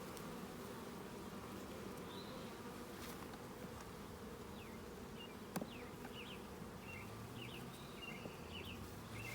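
A late-season swarm of honey bees buzzes in a dense, steady drone close by, a constant hum with a few individual bees zipping past and one brief knock partway through.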